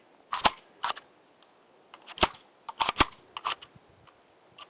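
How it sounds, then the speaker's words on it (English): The slide of a Tisas PX-9 Gen3 pistol is racked several times during a torture test: crisp, close metallic clacks in quick pairs and clusters, loud against an otherwise quiet background. "cycle the slide a few times"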